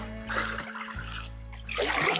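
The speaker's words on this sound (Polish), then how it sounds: "Prawie biała woda." Small river rapids splash and foam over many stones during a kayak trip on a gentle lowland river, bursts of close splashing and trickling water with a louder surge near the end.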